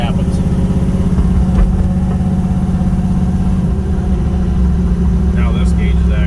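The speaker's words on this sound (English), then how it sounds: "The motor was put together, it's all brand new, and it's been dynoed, so we'll give her a little run here" A supercharged LS engine in a Chevy Nova runs steadily at a loud, lumpy idle close by, with a slight blip partway through and voices talking over it.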